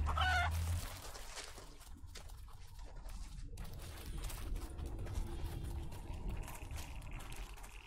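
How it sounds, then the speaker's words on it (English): A chicken clucks faintly in the Beautiful Desolation video game, with a brief call at the start over a quiet, watery ambient background. "Chicken."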